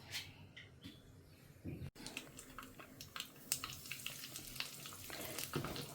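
Mustard seeds and a little cumin tempering in ghee for rasam, a soft steady sizzle with scattered tiny pops and crackles, starting after a short clatter and continuing close and moderate with no talk.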